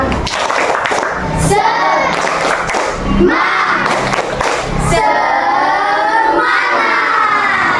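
A standing class of sixth-grade pupils performs a rhythmic clapping chant together, loud group voices and claps filling the room continuously, with shouted chanting throughout.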